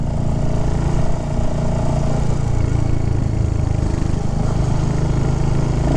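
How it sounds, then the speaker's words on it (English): Royal Enfield Hunter 350 motorcycle engine idling steadily up close, a low, even, continuous purr with no voices over it. "My motor's just got a nice little purr to it."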